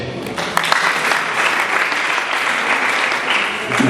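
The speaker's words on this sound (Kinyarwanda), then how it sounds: "mumuhe amashyi menshi" Guests at a live wedding ceremony in Rwanda applaud steadily, a dense wash of clapping from a crowd that holds at an even level for several seconds, with a few voices faintly mixed in.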